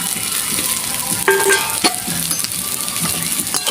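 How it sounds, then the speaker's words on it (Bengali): Spices with turmeric and Kashmiri chili powder being stirred in a hot pan, a steady close sizzle with scraping stirs and a few sharp utensil clinks over a continuous frying hiss. "ভালো করে আমি কষবো"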